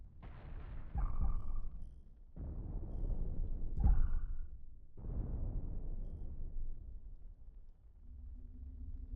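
Nuke explosions from mine launchers in the space game Cosmoteer: several heavy, rumbling booms in a row, each bursting sharply and then rolling off in a long low roar, loud and close with no talk over them.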